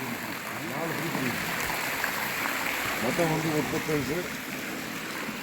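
A continuous rush of water pouring from a pipe falls steadily, loud and close, with someone speaking over it.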